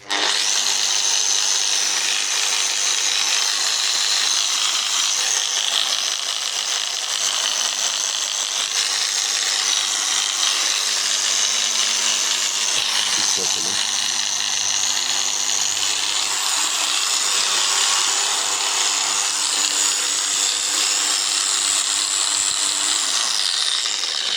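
A Bosch GWS 9-115 S angle grinder whines steadily and loudly throughout, a high grinding drone that shifts slightly in pitch near the middle, with no talking.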